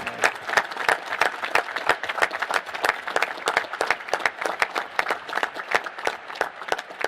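A crowd gives sustained, dense applause in a hall at a National Space Council meeting, honoring council members. Many overlapping claps hold a steady level throughout, with no voices rising above them.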